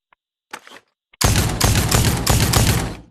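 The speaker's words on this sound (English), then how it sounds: "And this is a semi-automatic shotgun" A semi-automatic shotgun in Pavlov VR fires in a quick string of loud, close blasts with almost no gap between them, after a few faint mechanical clicks and a short handling rattle in near silence.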